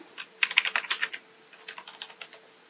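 Rapid typing of a username and password on a computer keyboard, two close bursts of crisp key clicks separated by a short pause, alone with no talk.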